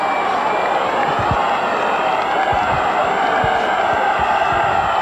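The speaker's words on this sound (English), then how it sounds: "Well, listen to the crowd here," Home crowd roaring for Bradford Bulls at a 1996 rugby league match against Wigan, a dense, sustained stadium roar with scattered claps, loud and continuous throughout.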